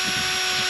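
A power drill bores a pilot hole with a small diameter bit while building a pig breeding facility, a steady close whine holding for under a second with no talk.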